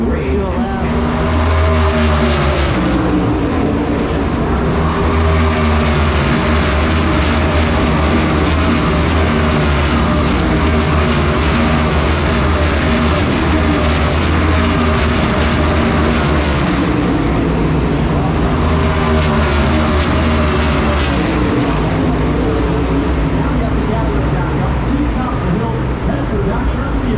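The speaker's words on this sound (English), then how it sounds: "It takes about a minute for the cars to come around the track." NASCAR Cup cars roar around the Watkins Glen road course, a loud, continuous engine drone with rising and falling pitch as cars pass, heard close from trackside with a voice speaking over it.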